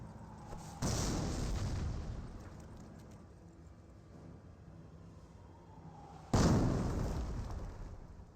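Artillery shells burst among engineers in a Company of Heroes match, two heavy booming explosions about five seconds apart, each followed by a rumbling decay over a steady battlefield background.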